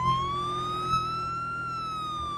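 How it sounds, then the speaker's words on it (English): A police car siren wails continuously in a Vehicle Simulator video game, a steady rising-and-falling electronic tone that stays loud and clear throughout with no talk over it. "so they just sound the siren"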